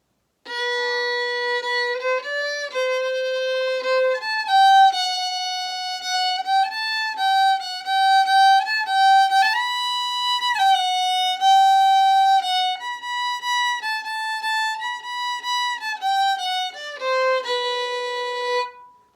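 A solo fiddle plays the second B part of an advanced traditional tune, flowing bowed phrases with held notes that resolve onto a final B, close and clear with no one talking.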